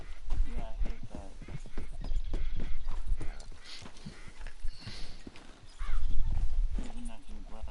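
Horse hooves clip-clop at a steady walking rhythm in the Red Dead Online video game, with a brief whinny, while people talk over the sound throughout.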